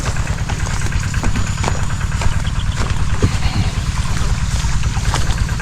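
A harvest machine engine runs steadily outdoors, a continuous low rumbling drone with constant loudness throughout, touched by some wind noise.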